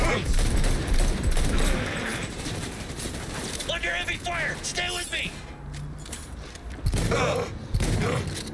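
Dense, continuous gunfire and bursts of shooting in the video game Cyberpunk 2077 (patch 1.5), loud and busy throughout with mechanical clatter, while a voice talks faintly underneath.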